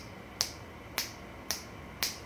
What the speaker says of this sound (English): just with a finger snap.